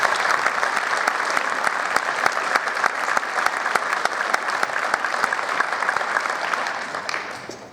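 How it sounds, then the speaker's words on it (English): Sustained applause from a sizable crowd at a high school marching band's indoor concert, steady and dense clapping throughout, tapering slightly at the very end. "Let's have another round of applause for us."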